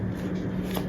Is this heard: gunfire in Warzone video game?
no